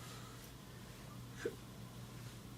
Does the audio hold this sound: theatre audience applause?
no